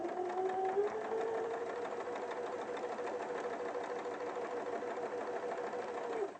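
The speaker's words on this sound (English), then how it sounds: "while you're sewing that" Sewing machine stitching quilt blocks: a steady, fast mechanical whirr and chatter running continuously for several seconds at moderate level, with a faint hum shifting slightly in pitch, then stopping abruptly.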